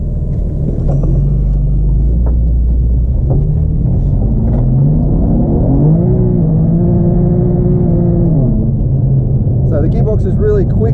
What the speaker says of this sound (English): So the gearbox is really quick shifting